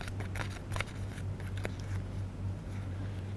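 Dry wafer paper crackling and rustling as it is handled up close, a quick run of crisp, flaky crinkles over a low steady hum.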